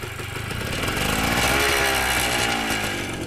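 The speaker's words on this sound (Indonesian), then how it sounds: "Suara mesinnya halus ya, kas 2 tak tapi dia nggak kasar teman-teman." An original 1978 Suzuki TS 100 two-stroke motorcycle engine runs steadily near the listener, a continuous buzzing drone that swells slightly in the middle.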